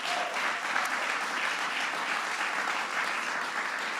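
Audience at an evening honorees event in Washington giving a big round of applause to partner organizations, dense steady clapping throughout, moderately loud and uninterrupted.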